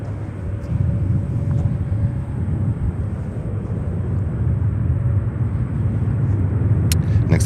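A Spirit Airlines Airbus A320-271N neo arriving from Houston at Chicago O'Hare makes a steady, low, broad roar that holds at a moderate distance throughout.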